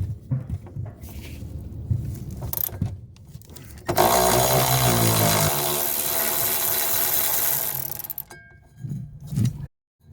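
A ratchet backs out the 13mm top shock absorber bolts on a 1970–1981 Camaro, giving a loud sustained whirring buzz of about four seconds, close up, with quieter intermittent clicks and handling noise before and after.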